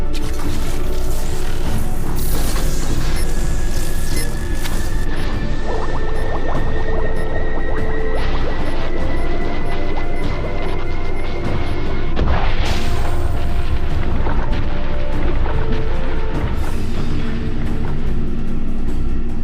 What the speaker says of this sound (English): that explosion should do the trick